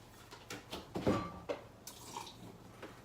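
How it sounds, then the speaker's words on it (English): Water poured into pancake batter while a quick breakfast is made: a few short splashing, dripping bursts at close range over about three seconds, with no talking. "So I'm gonna go ahead and add some water."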